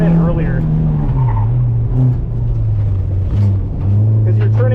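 A Honda Civic EJ1 slides through an autocross turn at Evergreen Speedway, its engine droning steadily close up under a constant hum while a voice talks over it.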